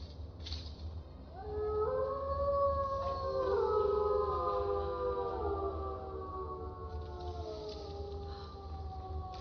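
Several summoned dogs in Skyrim howl together in long, overlapping, rising and falling wails, fairly loud and close, over a steady low game hum, then fading out toward the end.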